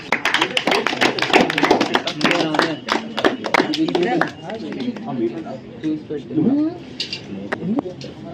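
An audience at a team English quiz claps in a quick flurry of sharp, scattered hand claps for the first few seconds. The claps then thin out under ongoing chatter and voices.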